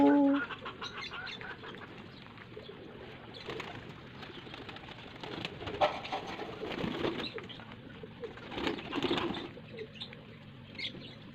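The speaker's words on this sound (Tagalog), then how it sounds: "Tingin ka lang dito sa mga ano, kalapati." Pigeons kept as pets, including a newly hatched all-white chick, coo and flutter close by in a loft, with soft wing flaps and shuffling through an otherwise quiet stretch.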